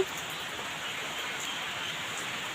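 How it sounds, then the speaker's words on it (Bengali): Steady, even rain hisses outdoors, a constant wash of falling drops with no voices. "বাইরে তো বৃষ্টি একদম সকাল থেকে"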